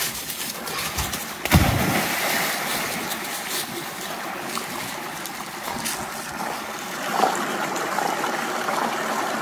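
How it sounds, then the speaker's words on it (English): A dog is rinsed with creek water during an outdoor bath in the country: a steady splashing, trickling wash runs throughout, with a sharper pour of water near the start and a smaller surge later. "a little more rinsing."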